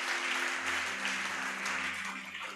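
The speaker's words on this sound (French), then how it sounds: "Nous acclamons très fort pour le Seigneur." A church congregation applauds loudly and steadily, dense clapping filling the room without pause under a low sustained hum.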